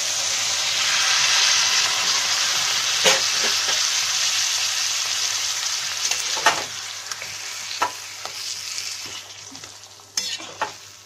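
A pan of Bengali fish head curry (muri ghonto) with potatoes and garam masala sizzles loudly and steadily, with scraping stir strokes and a few sharp clinks in the second half as water goes in.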